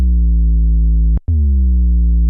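Moog synthesizer playing an 808-style bass with a long decay, two sustained deep tones with a slight downward pitch glide, separated by a brief gap, loud and alone.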